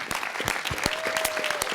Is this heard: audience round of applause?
yes